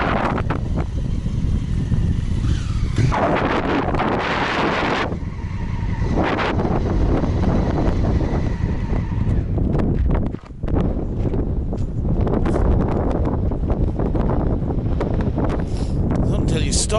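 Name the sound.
strong wind on a desert trail ride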